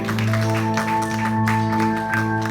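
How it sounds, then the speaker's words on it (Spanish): A church congregation applauds in a steady, sustained patter of many hands, layered over a held organ or keyboard chord that sounds throughout. "Da un fuerte aplauso al Rey."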